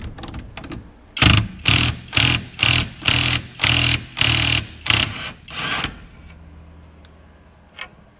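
A socket tool works a steering wheel nut on a 1975–77 Ford van, giving about eight loud, evenly spaced mechanical bursts in a row, then falling to a quiet hum with one faint click near the end.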